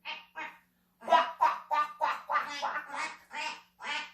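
Children's voices in a preschool yoga class make a string of about ten quacking calls, imitating a duck in short, bouncy bursts with a brief pause after the first two.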